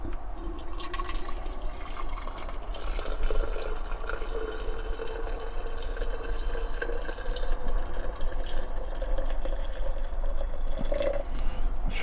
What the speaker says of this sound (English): Put some hot water in.